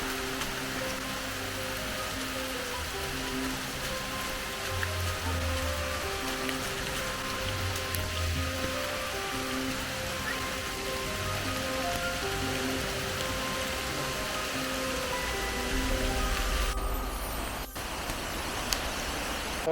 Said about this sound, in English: Well, we got rained out.